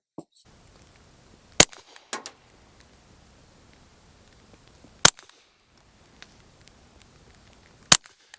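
Three sharp, isolated gunshots ring out during a test of a Votatu PMD505 camera, spaced several seconds apart, with a few faint clicks between them and a quiet background.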